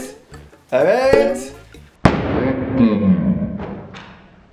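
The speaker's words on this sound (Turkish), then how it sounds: "Patlat bakalım bir tanesini. Dikkat et iğneye." A balloon is popped with a needle, giving one sudden sharp bang in the middle of lively talk between a child and an adult, with voices continuing before and after it.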